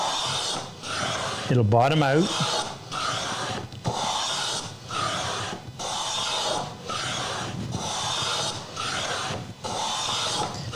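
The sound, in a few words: hand plane planing wood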